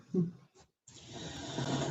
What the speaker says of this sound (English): that is my dog snoring for real